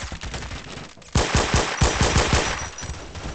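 Automatic gunfire in the Phantom Forces shooter game, a loud close burst of rapid shots, a short volley first and then a longer stream of repeated cracks after a brief pause.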